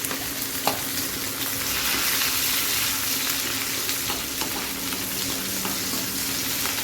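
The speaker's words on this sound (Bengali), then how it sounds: "তেলের ভিতরে আমি এখন রসুন, আদা দিব, আদা রসুন দেওয়া হয়ে গেছে। এখন আমি কাঁচা লঙ্কা দিব" Garlic, ginger and green chilli fry in hot oil with a loud, continuous sizzle up close, broken by a few sharp ticks and crackles.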